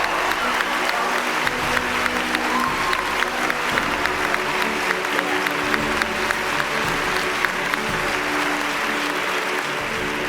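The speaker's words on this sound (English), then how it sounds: "give yourself a round of applause" Sustained applause from a big audience, an even wash of many hands clapping with a low murmur beneath it.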